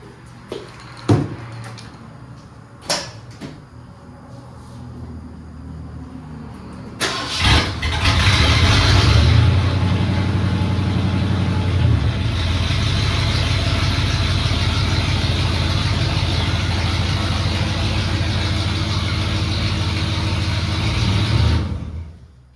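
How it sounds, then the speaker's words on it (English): A 1978 Ford F100 pickup cranks over after a few faint knocks, catches around seven seconds in and settles into a loud, steady idle that rumbles on close by before cutting off near the end. "I'm gonna drive the truck the rest of the way out."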